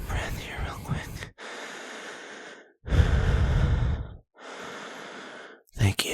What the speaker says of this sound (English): Excuse me for being out of breath. I'm just gonna catch my breath here real quick.